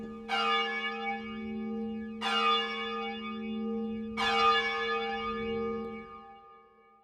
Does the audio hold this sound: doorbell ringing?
yes